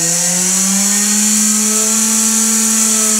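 A small electric motor spins at around 20,000 RPM, giving a loud, close, sustained high-pitched whine with a steady tone that rises slightly and holds throughout.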